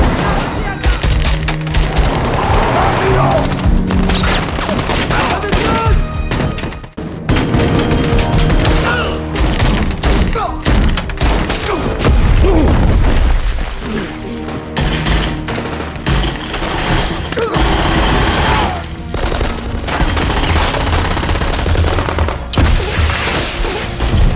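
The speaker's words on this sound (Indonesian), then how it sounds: "Cobb berhasil menembak Braxton dari dalam mobil." Rapid bursts of gunfire ring out in a film scene as shots are fired from a car, loud and dense, with crashes and thuds mixed into a busy soundtrack.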